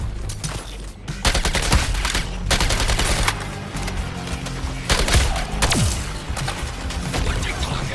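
Dense gunfire from a Suicide Squad: Kill the Justice League battle in Metropolis, with rapid overlapping shots and bursts, loud and continuous throughout, mixed with clatter and impacts.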